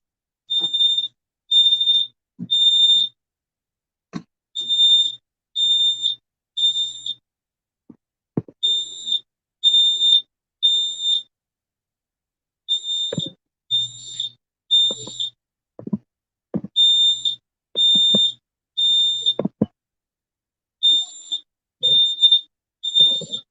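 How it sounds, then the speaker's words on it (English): Fire alarm sounding in a home kitchen, loud high-pitched beeps in repeated groups of three with short pauses between, alongside scattered clicks and knocks of household movement. "I can't shut this fire alarm up."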